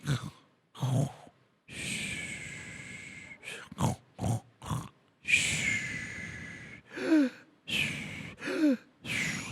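A voice imitates regular snoring, a steady run of rasping snore-like breaths and snorts repeated at even intervals, close and fairly loud, with short gaps between each.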